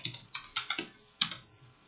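Keys tapped on a computer keyboard while writing code, a short burst of about eight to ten clicks in uneven rhythm, close and fairly quiet with no voice.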